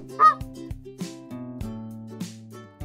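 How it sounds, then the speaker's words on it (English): Honking, goose-like flamingo calls sound in a few loud, nasal bursts with pauses between them, close and clear, with no talking. "Flamingo."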